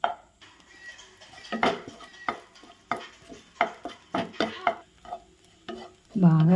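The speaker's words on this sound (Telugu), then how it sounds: "బాగా వేయించుకుందాం." Spices dry-roasting in a pan for kakarakaya podi, with irregular scraping stirs and light rattling of seeds against the metal, close and distinct over near silence between strokes.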